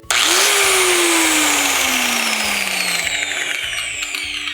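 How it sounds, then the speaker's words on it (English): A HomeLight angle grinder in a home workshop whines up sharply to full speed, then runs with a loud, steady high-pitched spin that slowly winds down over a few seconds, with no talk. "It's a HomeLight angle grinder."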